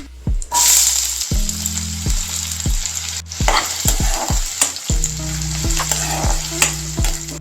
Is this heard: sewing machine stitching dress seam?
no